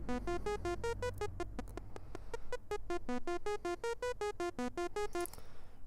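A generative synth loop plays a steady stream of short, bright plucked notes that wander in pitch. The notes vary in loudness as an LFO modulates velocity and stereo width, over a low droning bed, quiet and without voices.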